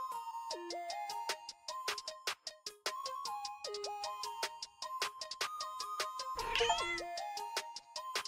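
In the video game Cats in the Grove, cats meow over and over in quick, bright, repeated calls over a chiming game melody, with one longer squealing caterwaul near the end and no speech.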